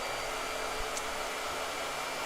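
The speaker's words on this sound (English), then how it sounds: "Blow dryer." A blow dryer runs at a constant, steady whoosh with a broad airy hiss, close and alone throughout with no talk.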